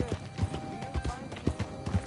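Horse hooves clip-clopping in a steady rhythm in the video game Red Dead Redemption II, with a few soft snorts and whinnies close by under steady game music and a faint voice.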